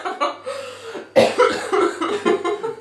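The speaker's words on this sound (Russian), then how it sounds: "Мне нужно покашлять." Someone coughs repeatedly into a hand, a series of loud, close, harsh bursts that run into laughter and chuckling during a playful arms challenge.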